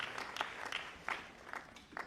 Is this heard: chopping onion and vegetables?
no